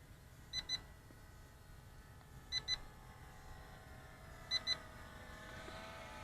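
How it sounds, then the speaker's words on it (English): Three pairs of short, high electronic warning beeps from a Kageen Q5 GPS quadcopter drone, evenly spaced a couple of seconds apart, over a low steady background hum. "Oh, the beeping got more steady."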